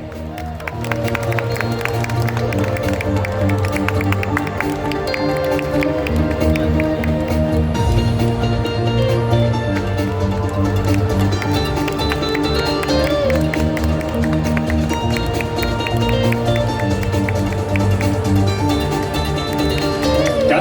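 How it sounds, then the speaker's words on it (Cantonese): An audience applauds steadily and loudly throughout a cosplay competition award ceremony at a Hong Kong anime and games festival, with crowd noise mixed under continuous background music. "我哋用掌聲歡迎 Mr. 404"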